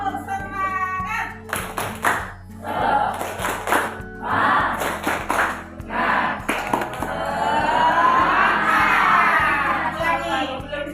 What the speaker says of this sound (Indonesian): kalau tahu kita coba tepuk semangat